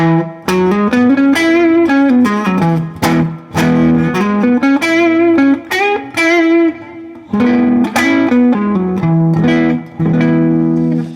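An electric guitar plays major pentatonic blues phrases with an effects-processed tone, a steady stream of sustained, bending notes and quick runs, loud and close, with no voice.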